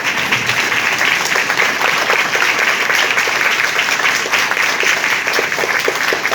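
Steady applause fills a church worship service at Maka Colony in Lahore, the dense clapping continuing evenly throughout with no talk over it.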